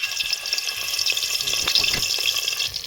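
Cloves, cardamom, bay leaves and dried chillies crackle in hot oil with fat, giving a dense steady sizzle punctuated by sharp close pops and snaps.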